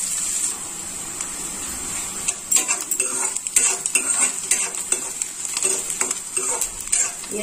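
Semolina (rava) dry-roasting in a pan for vegetable upma, stirred with a utensil: steady soft hiss with bursts of scraping, clinking strokes, close and alone.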